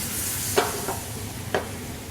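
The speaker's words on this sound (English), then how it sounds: "the sauce is going to reduce in the pan and create a glaze from the brown sugar" Orange brown-sugar sauce sizzles softly as it reduces in a pan with chicken tenders, a faint steady frying hiss broken by a few brief stirring scrapes.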